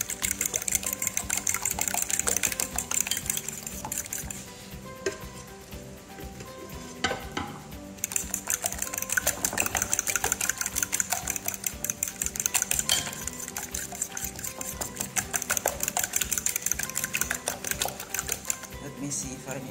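Eggs and salt are whisked in a bowl with rapid, steady scraping and tapping strokes that run continuously, with a brief pause partway through, and a person speaks in the background.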